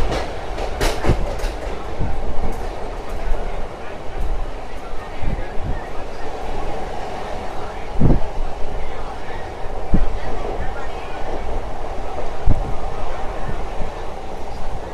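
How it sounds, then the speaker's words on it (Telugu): The Simhadri Express runs steadily past Marripalem railway station near Visakhapatnam, with a continuous loud rumble and periodic sharp clacks of wheels over rail joints. "సో మన ట్రైన్ వచ్చేసి మరిపాలెం రైల్వే స్టేషన్ స్కిప్ అయితే కొడుతుంది."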